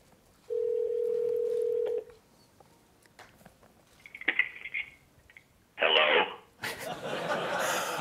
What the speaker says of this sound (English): My Mac's going to actually make a speakerphone call through my phone.